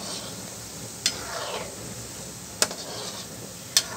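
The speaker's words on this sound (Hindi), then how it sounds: "इस तरह ये फ्राई कर लेती हूँ मैं" Potato kofta balls fry in a small amount of oil in a kadhai, giving a soft, steady sizzle with three sharp clicks of a utensil against the pan.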